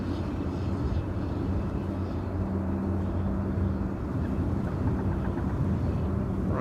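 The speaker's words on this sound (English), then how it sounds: "I can hear the KLM before it landing." A KLM airliner approaches to land at Amsterdam Schiphol airport, a continuous low jet roar with broadband rumble holding at a steady, moderate level throughout, heard from a distance outdoors.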